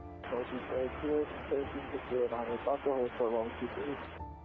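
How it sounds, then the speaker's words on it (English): Muffled, band-limited voice heard through radio static on an aviation frequency, the speech distorted and hissy in a narrow, tinny band, moderately loud, with static before and after. "you can hear a bit of static, and you can hear a voice that sounds like it's being muffled by the static"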